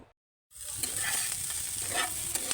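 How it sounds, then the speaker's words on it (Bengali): Soya chunks rubbed with turmeric, frying on a tawa, give a loud, steady sizzle that starts suddenly after a short silence and holds without letting up. "এখন আমি একটা তাওয়া বসিয়ে বড়িগুলো ভেজে নেব"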